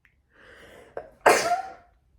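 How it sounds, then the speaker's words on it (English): A single close sneeze with a short indrawn breath beforehand, loud and sharp, then a brief trailing exhale. "Oh, I need to sneeze."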